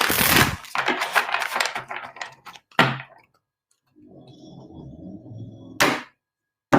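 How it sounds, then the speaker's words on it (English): Tarot cards shuffled by hand at close range: a dense burst of riffling flutter, a few sharp taps and thuds as the deck is squared, a softer low rustle, then a final crisp snap. "I'm going to shuffle one more time."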